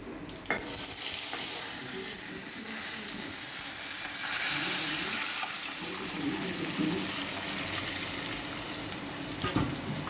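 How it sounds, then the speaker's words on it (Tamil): Mutton pieces going into a hot pan, a dense steady sizzle and hiss with stirring scrapes, close and loud throughout, no talk over it. "மட்டன் எடுத்துக்கோங்க. அதை எடுத்து அதில் ஊற்றணும்."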